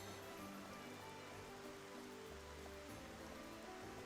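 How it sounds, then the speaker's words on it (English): Steady game rain in Xenoblade Chronicles Definitive Edition, a soft continuous hiss of drops falling on surfaces, faint and even throughout, with low ambient music tones beneath. "the weather is always raining, regardless"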